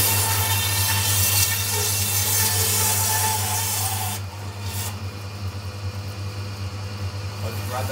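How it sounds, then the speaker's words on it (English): A bandsaw runs while cutting a lamb carcass and trimming away fat, a loud steady motor hum with a rasping cut that drops off partway through, leaving a quieter whir and faint rubbing. "I'll just rub that bit of fat out with the saw."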